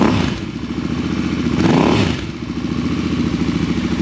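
Royal Enfield Continental GT 650 with a newly fitted Scorpion exhaust, revved to around 4,000 RPM: a loud, close, raspy twin-cylinder drone that swells with a throttle blip, then settles, with no talking.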